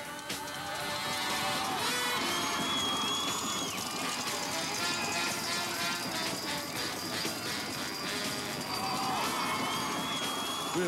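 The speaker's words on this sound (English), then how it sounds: "Throngs of cheering Bruise Brothers fans." A large crowd of baseball fans cheers in a stadium, a dense, continuous roar with shouts and whistles that stays loud and near throughout.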